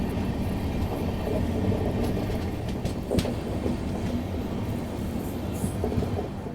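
LHB coaches of the Tatanagar–Thawe Express running at an upper railway station, a steady loud rumble of wheels on track with intermittent clicks and clacks throughout, no voices.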